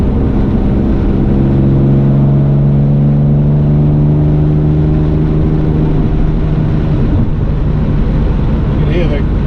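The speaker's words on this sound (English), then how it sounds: "You can hear the engine notes fabulous" A Series 1 Jaguar E-Type sports car engine heard through a long-pipe stainless steel exhaust hums steadily with smooth, sustained harmonic tones that rise gently in pitch as it pulls, with a faint voice underneath.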